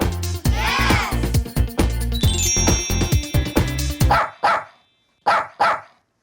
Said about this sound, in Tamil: நாய்க்குட்டி எப்படி குறைக்கும்னா வவ் வவ்